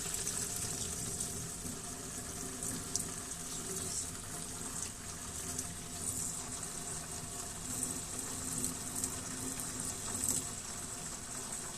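A steady stream of water drains from underneath a 2016 Range 900 XP hi-lifter utility vehicle, splashing and trickling continuously at moderate distance, a hissing, bubbling flow that never pauses.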